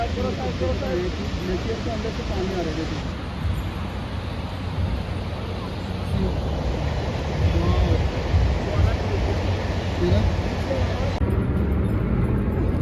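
Glacier meltwater rushing out from inside the Amarnath cave in the Himalayas, heard as a steady broadband outdoor wash of flowing water with some wind noise, continuous and fairly loud throughout.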